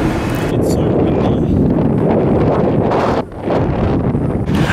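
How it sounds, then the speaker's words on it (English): Strong outdoor wind in Sydney buffets the microphone with a loud, continuous roar that briefly eases near the end before surging again. "It's so windy."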